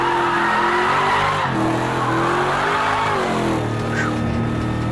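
A Ford Mustang RTR FD drift car in the video game Project Cars 2 holds a loud, steady engine drone while sliding, with tires squealing continuously and pitch rising and dipping as it shifts and accelerates.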